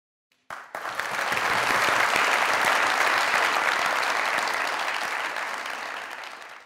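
Studio audience on the Pakistani comedy show Mazaq Raat bursting into loud, sustained applause after a brief quiet start, with the clapping swelling quickly and holding steady before easing slightly at the end.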